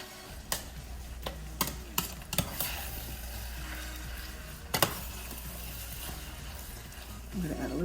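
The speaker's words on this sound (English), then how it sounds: "So, I'm still stirring." Onions and tomatoes are stirred in a pan with a soft, steady sizzle, broken by a few sharp scraping knocks from the spoon against the pan while a voice talks quietly.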